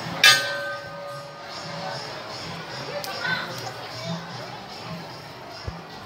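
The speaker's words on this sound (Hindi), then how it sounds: "और थोड़ा सा घंटी बजा देते हैं" A temple bell in a Giridih temple is struck once near the start, its bright ring decaying over steady crowd murmur, with a fainter strike or two following amid the background babble.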